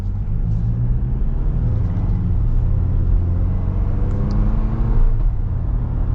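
Steady, loud road rumble from a moving 2025 Jeep Wrangler Rubicon soft top, with a constant low roar of tires and wind rushing in through open windows.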